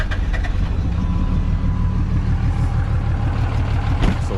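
A junk project truck's engine idling loud and close with a rough, uneven churn and small pops through the intake from a bad valve, steady throughout with no talking.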